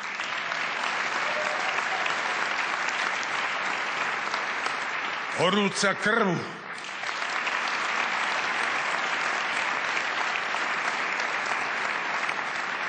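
An audience at a live Slovak television awards ceremony applauds the nominees for series of the year with steady, dense clapping. It pauses briefly while a presenter speaks, then resumes.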